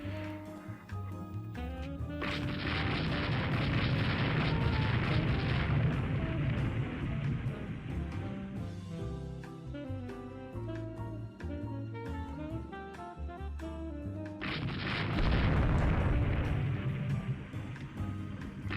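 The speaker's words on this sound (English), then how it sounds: "conduct a running gun battle with the only 2 ships in the world armed with 20-inch guns" Naval 20-inch guns fire in the warship game Rule The Waves 3, heavy booming salvos that swell loud around the start and again near the end, layered over a dense, continuous rumbling game soundscape with no speech.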